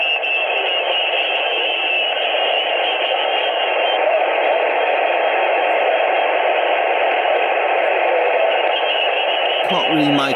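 Weak amateur radio station on a receiver, buried in steady band noise and mixing with adjacent stations, a continuous hiss-like wash with indistinct voices that never come through clearly, cut off abruptly near the end.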